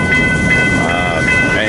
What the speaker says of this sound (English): this train is working the massive grain yard here, right off the main line